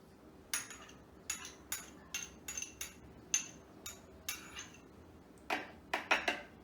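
A spoon scrapes minced garlic out of a container, giving a string of about a dozen short, close clinking scrapes at an uneven rhythm, with no talking.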